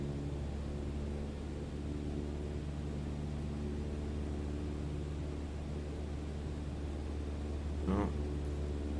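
A light aircraft engine in Microsoft Flight Simulator drones steadily and evenly throughout, a broad continuous roar with little change in loudness and a short sharp blip near the end.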